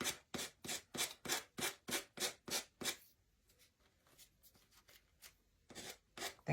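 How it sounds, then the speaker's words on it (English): A nail file rubs the wood of a pallet sign in brisk regular strokes, about ten close rasping passes, then a quiet pause before a few more strokes resume. "Nail file this off."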